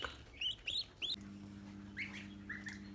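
Week-old goslings and turkey poults chirping in short, high, clear calls, a few in quick succession then a couple more, over a steady low electrical hum.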